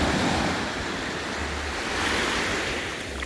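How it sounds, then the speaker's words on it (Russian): Steady roar of ocean surf at Cayo Cruz island, Cuba, waves washing continuously with some wind noise, broad and enveloping without any voices. "порелаксировать под шум моря, вид на океан"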